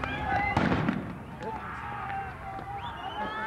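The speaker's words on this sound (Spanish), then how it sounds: "Una lluvia de piedras y petardos se registró a las afueras del CETI 54" Firecrackers go off outside a school during a clash with thrown stones: a sharp crack near the start, then a few fainter pops over a murky outdoor background.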